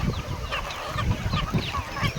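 Country chickens, guinea fowl and turkeys on a farm, a close, busy mix of clucks, honks and squawks overlapping continuously.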